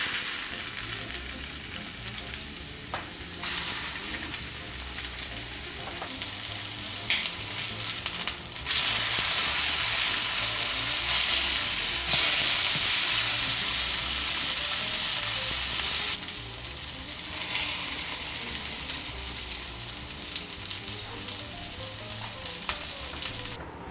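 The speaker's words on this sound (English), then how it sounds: "I'm gonna add the sausage patty" A sausage patty frying in a hot pan gives a loud, steady sizzle that runs unbroken for the whole stretch, swelling brighter midway and then settling, with no voices.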